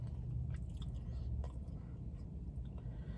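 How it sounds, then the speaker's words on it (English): Soft, close chewing and biting on a chipotle steak quesadilla with cheese, faint and continuous with moist squishy crunches and no talk. "Let's taste the steak."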